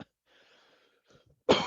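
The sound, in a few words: cough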